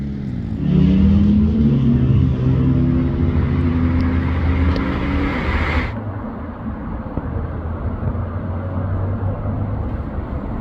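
An MG TF sports car driving, a loud, steady engine drone heard from on board that shifts pitch partway through as the car changes gear, then carries on with a rougher road rumble.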